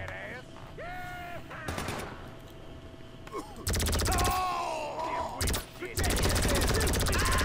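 Machine gun fire in GTA 5 Online during a survival mode, with rapid bursts coming in several loud, separated volleys and growing stronger toward the end, over a background of game noise and a voice talking.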